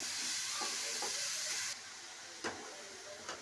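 Leafy greens going into hot oil with red-fried garlic, green and dried chillies, a loud steady sizzle that cuts off abruptly, followed by quieter hiss and a couple of sharp stirring knocks.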